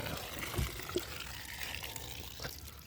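Water is drawn for watering young eggplant seedlings on a farm plot, a soft continuous trickle and pour of liquid with a few small splashes, fairly faint and steady throughout.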